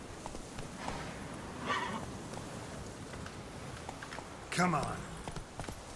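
Horse Roach from Witcher 3 moves along with soft hoof clip-clops and a few louder snorting bursts, under a man's brief spoken words.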